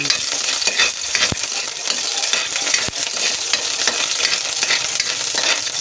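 Garlic sautéing in a pan for chicken adobo gives a loud, continuous sizzle and crackle close up, with a couple of sharp utensil knocks against the pan.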